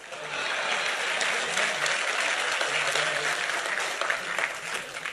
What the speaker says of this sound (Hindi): लेकिन अब आपकी तालियां उठनी चाहिए